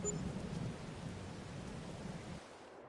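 Steady rain in the farming game Farming Simulator 22, a continuous broadband wash of falling drops with a low rumbling undertone, fairly soft and even throughout with no voices.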